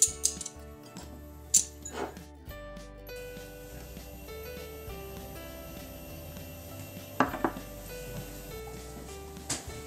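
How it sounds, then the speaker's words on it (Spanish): Metallic clicks and clanks from a garlic press squeezing garlic cloves, a few sharp knocks spread over a faint background hum of music. "Primero vamos a pasar nuestros dientes de ajo por una prensa de ajo"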